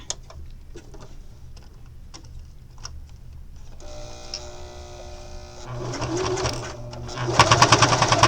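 A sewing machine stitching a faux leather bag liner, with quiet handling and clicks at first, then the motor starts up and runs in a steady mechanical whir that grows faster and louder toward the end.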